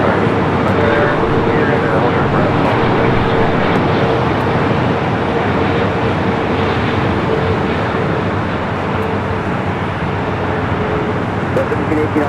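A Turkish Airlines Boeing 777 arriving on the north side of LAX, heard as a steady, loud broadband jet roar that holds for the whole stretch, with airport and road noise blended underneath.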